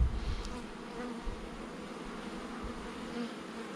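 Many honey bees buzz in a low, continuous drone close by during a beehive inspection, with soft rustling and small handling noises mixed in.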